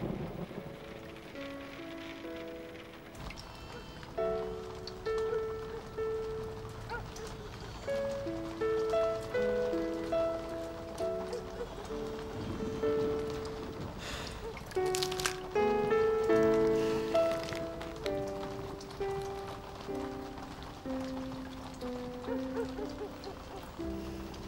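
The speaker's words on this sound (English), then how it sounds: "Even the rain is different in Boston." Steady rain falls in Boston, a soft, continuous wash heard under a gentle melodic musical score for the whole stretch.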